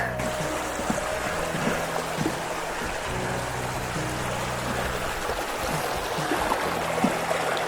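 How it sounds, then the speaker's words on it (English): Water of the River Breamish in Northumberland rushing and gurgling past stepping stones at a crossing, a close, steady burbling flow with small splashes, no voices over it. "this here's the river Breamish crossing"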